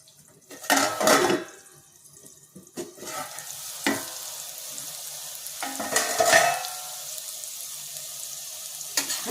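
Potato, pumpkin, eggplant and neem leaves frying in oil in a pan, with a bursts of loud sizzling and stirring clatter at intervals over a steady soft hiss.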